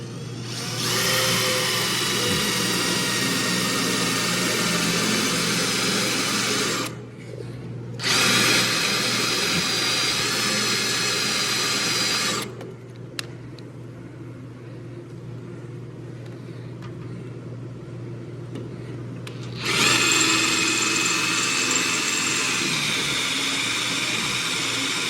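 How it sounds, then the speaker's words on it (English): Power drill boring through 1/4 inch steel plate, a loud, steady high-pitched whine near the mic that runs in long bursts, drops out briefly, then resumes after a quieter pause. "That's 1/4 inch steel that we're drilling through."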